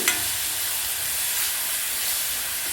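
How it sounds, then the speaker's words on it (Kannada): Ground masala going into softened onion and tomato in hot oil, giving a steady, close sizzle and hiss with a faint stir at the start and no voices. "ಈ ಟೈಮಲ್ಲಿ ರುಬ್ಬಿಟ್ಕೊಂಡಿರೋ ಮಸಾಲೆನ ಸೇರಿಸ್ತಾ ಇದ್ದೀನಿ"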